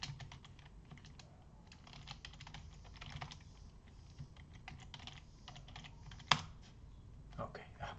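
A computer keyboard is tapped quietly and irregularly as a password is typed, soft clicks near the mic with one sharper keystroke partway through.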